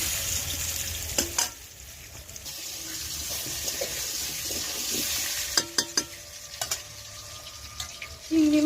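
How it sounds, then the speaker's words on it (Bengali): Potatoes frying in oil for a jackfruit and prawn curry give a steady hiss, broken by a few sharp clinks and scrapes of a utensil against the pan, with no voices. "আলুটা আমি লাল করে ভেজে নেব।"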